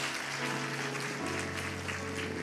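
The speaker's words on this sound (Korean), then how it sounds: "박수해 주십시오." A congregation claps together in church right after a baptism is declared, a dense, steady applause with sustained musical tones underneath and no talking.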